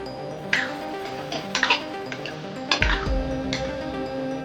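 Tawa paneer masala being stirred in a pan, giving a few distinct clinks and scrapes of a utensil against the metal at irregular intervals over a steady low kitchen hum.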